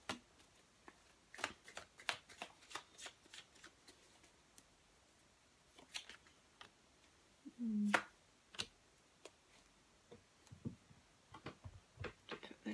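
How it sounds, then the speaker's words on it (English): Chuck Spezzano love cards drawn and handled during a tarot reading, with soft scattered card flicks, slides and shuffles, one longer rustle near the middle, close and quiet with no talk. "I'm going to draw a few Chuck Spezzano love cards"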